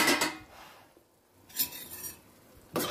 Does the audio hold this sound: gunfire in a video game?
no